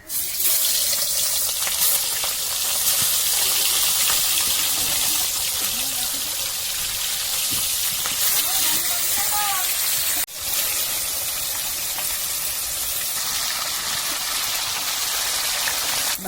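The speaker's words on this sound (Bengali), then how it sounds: "মাছের তেলে মাছ ভাজবো তাহলে মাছটা লাগবে মাছ দিয়ে দেবো" Pieces of rohu fish fry in hot oil with a dense, steady, rain-like crackle close by. The sizzle breaks off briefly about two-thirds through and then resumes.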